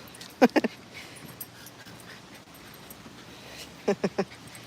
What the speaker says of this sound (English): My dogs are crazy.